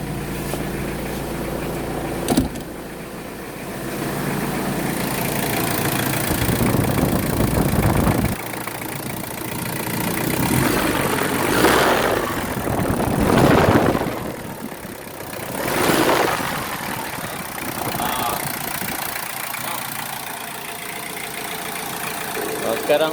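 A Ford Ranger 2.5 WL diesel engine with a wrong firing order idles steadily and close by, its low rumble swelling in a few surges, with a sharp knock near the start.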